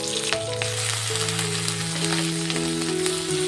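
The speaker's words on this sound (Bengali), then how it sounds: "কাতলা মাছের তেলটা দিয়ে ভেজে নেব" Onion and green chilies frying in katla fish oil, giving a steady, close, dense sizzle that crackles without pause throughout.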